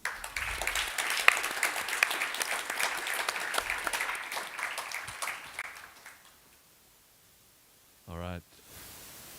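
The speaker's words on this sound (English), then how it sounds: "One more round of applause for them." An audience at the BLISS 2025 conference gives the panel a round of applause, loud dense clapping that gradually fades out, followed by a brief bright electronic tone near the end.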